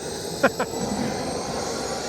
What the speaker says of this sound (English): Now this is a rare treat, if you can hear me. The jet-powered Rover car.